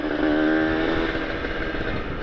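A Kawasaki Ninja RR motorcycle with an ABRT20 exhaust revs steadily at high RPM, a loud, continuous exhaust drone with a smooth rumbling tone, close by and without talk.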